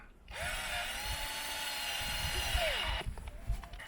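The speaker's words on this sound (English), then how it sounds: "Let's drill a hole." A power drill whines steadily at high speed for a few seconds while drilling a hole in a maple tree, its pitch dropping as it winds down, with faint background noise.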